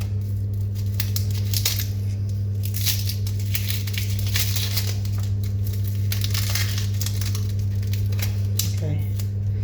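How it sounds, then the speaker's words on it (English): A knife slicing through a halved, peeled red onion on a cutting board, giving soft, steady crunching cuts over a constant low kitchen hum. "just going to quickly slice up my red onion"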